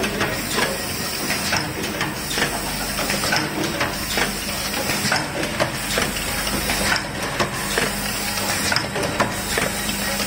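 A high-speed single-color screen printing machine with an LED UV dryer printing milk tea cups, a steady loud mechanical hiss and whir with fast, regular clacking cycles throughout.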